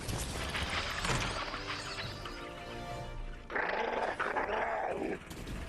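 Dogs growling in the Fortnite video game, low menacing rumbles with snarls and a yip layered over game mechanisms and music, fairly close and continuous.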